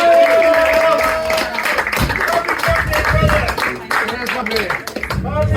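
Theater audience applauding and cheering at a live production, dense sustained clapping throughout with a voice speaking over the crowd.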